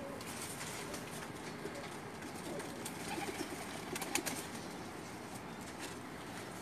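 Lakha pigeons at a Pakistani loft cooing softly under a steady rustle, with a few brief wing flaps breaking through near the middle, all close and fairly even in level.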